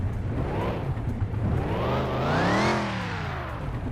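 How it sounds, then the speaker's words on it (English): Car engine revving up with a rising supercharger whine, tones climbing to a peak and falling back, loud and close in a custom car shop. "Ooh, I like the sound of that supercharger there."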